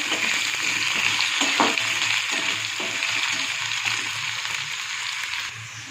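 Potatoes and onions frying in a pan over low heat give a steady, even sizzle throughout, with a few soft stirring scrapes and a slight drop in level at the end.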